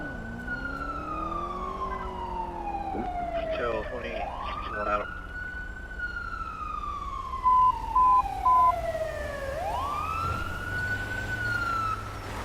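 An ambulance siren in a GTA roleplay game wails in slow rising and falling sweeps, loud and steady, with a few short beeps partway through.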